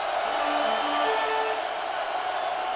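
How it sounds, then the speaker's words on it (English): A college football stadium crowd roars during the 2004 Oklahoma Sooners vs Bowling Green game, a constant loud, far-spread wall of cheering with a few whistles rising out of it and no pauses. "The crowd louder than it's been for a while"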